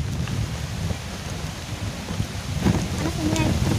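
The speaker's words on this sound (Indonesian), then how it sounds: "Hujannya guys." Rain pouring outdoors during a meal, a steady broadband hiss with scattered patters and a few louder gusts, heard close to the microphone.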